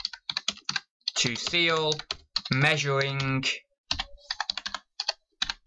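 Typing on a computer keyboard while entering a condition note for an item, heard as quick bursts of key clicks before and after a stretch of close speech that runs under and between them.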